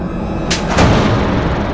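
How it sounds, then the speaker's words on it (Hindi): Two sharp firecracker bangs go off in quick succession over a steady background hiss, fairly close and loud. "ये पटाखे बहुत अच्छे हैं, बहुत आवाज है इनकी।"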